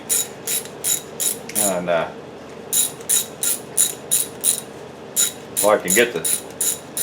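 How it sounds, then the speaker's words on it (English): A ratchet wrench turns bolts on a 5.3 LS engine, a rapid rhythmic clicking repeated in short strokes, close and clear, with brief speech partway through. "My wrench."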